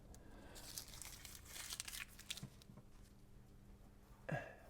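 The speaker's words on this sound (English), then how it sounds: "we're going to come in and take the tape off it" Tape pulled off a plug during a Mini Cooper R53 delete kit install: faint, close crinkling and tearing rustles spread over a few seconds, ending in a short sharper rip, no voices.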